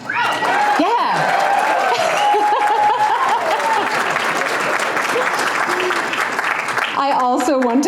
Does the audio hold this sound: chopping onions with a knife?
no